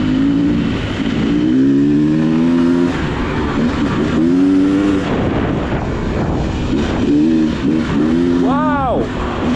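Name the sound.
Beta XTrainer dirt bike engine while riding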